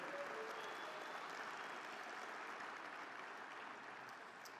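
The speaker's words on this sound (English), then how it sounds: "how about a round of applause for them for finally getting what they need?" A convention audience at the Alaska Federation of Natives gathering gives a sustained round of applause, a dense, even wash of many hands clapping at a moderate distance that holds steady and eases off slightly at the end.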